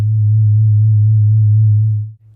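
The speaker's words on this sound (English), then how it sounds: "We just take a sine wave, give it a little bit of vibrato from an LFO," A synthesizer sine wave with slow LFO vibrato, a loud, pure low tone wavering evenly in pitch for about two seconds before cutting off, giving a spooky, theremin-like quality.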